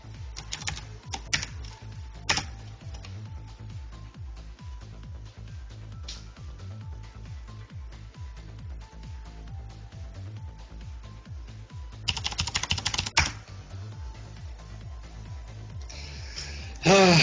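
Steady, busy clatter of a mechanical keyboard under continuous typing, close and fairly loud, with a denser burst of keystrokes near the end.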